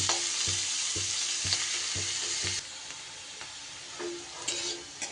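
Beans and carrots stir-fried in oil in a pan for a vegetarian paneer moghlai filling: a steady sizzle with rhythmic scraping knocks of a spatula for a few seconds, then quieter frying with occasional stirring, close and without talk.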